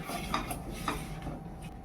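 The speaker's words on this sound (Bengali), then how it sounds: "এর মধ্যে চিকেনটা ঢেলে দিচ্ছি" Chicken tipped into a hot cooking pan for Peshawari chicken, with a few light clinks of a utensil against the pan and a soft sizzle, close and moderately quiet, no talking.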